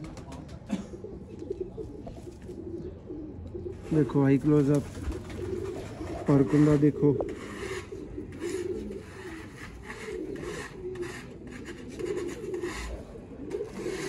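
Low, rolling coos from flying pigeons rise in two clear bursts while someone talks intermittently over the birds.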